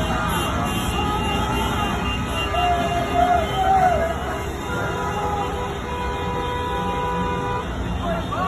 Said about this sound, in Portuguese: Em São Paulo, eles promoveram um buzinaço na frente de um hospital